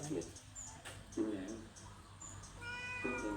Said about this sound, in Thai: นี่กับแมวเหมียวของฉันนี่นี่นี่แมวเหมียวของคุณยาย